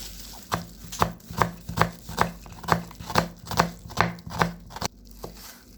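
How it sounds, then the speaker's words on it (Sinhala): A knife chops an onion on a cutting board in a steady run of about a dozen crisp, evenly spaced thuds, close and clear with no talking. "මම ලුණු ගෙඩියක් කපන්න යන්නේ."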